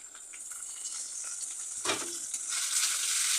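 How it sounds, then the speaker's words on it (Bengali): Chicken pieces sizzle steadily in a pan with fried onions, a bright continuous frying hiss with a brief scraping burst near the middle, growing louder toward the end; no talk. "চিকেনটা খুব ভালো করে ভেজে নেব"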